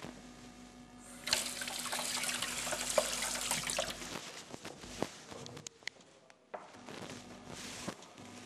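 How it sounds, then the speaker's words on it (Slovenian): Dried apricots are rinsed in water in a kitchen, with running and splashing water starting after a quiet moment, then intermittent sloshes, drips and small clatters as the fruit is handled. "Jaz bom dodala še suhe marelice, ki jih bom najprej malo oprala."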